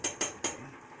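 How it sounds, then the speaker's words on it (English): Ramen noodles stirred in a pot: three quick metallic clinks of a utensil striking the pot in steady rhythm, close and fairly quiet, followed by a brief hush. "Just gotta keep on stirring it. You don't want the noodles to clump all up on you there."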